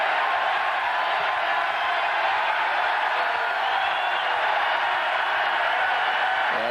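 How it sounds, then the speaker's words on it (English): Texas A&M Aggie football crowd roaring steadily in a packed stadium at Houston, a dense, continuous wall of cheering and shouting that stays loud and unbroken throughout. "And the Aggie crowd comes to life now"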